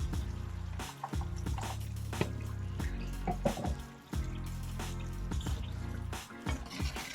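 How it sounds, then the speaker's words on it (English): Boiling water poured into a pot of Jamaican brown stew pork, faint splashing and dripping liquid with intermittent clatter, quiet and close with no voices. "I'm going to add about 2 cups of water to this side, okay? And you need boiling water."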